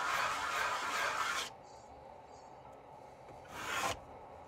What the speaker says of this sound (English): one of the handiest things to have in a shop is a flat surface with sandpaper adhered to it.